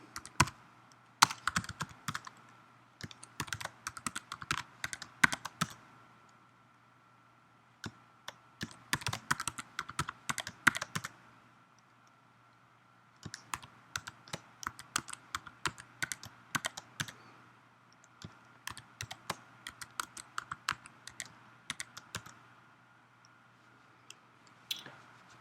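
Password being typed on a computer keyboard, close and crisp, in irregular bursts of rapid key clicks separated by short pauses, with no talking.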